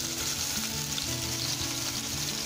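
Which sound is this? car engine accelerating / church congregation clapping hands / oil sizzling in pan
oil sizzling in pan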